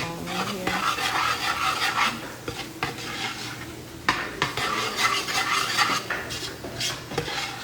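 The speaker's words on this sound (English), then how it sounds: "Stir it on in here." Vegetables for a shrimp stew being stirred in a pot, with a steady run of scraping utensil-against-metal strokes and clinks over a faint sizzle, close and fairly loud throughout.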